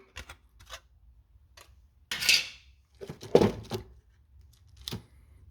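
A thin metal lid comes off a 1960s Peak Freans lifeboat ration tin, heard as scattered close metallic scrapes, taps and rattles with quiet gaps between.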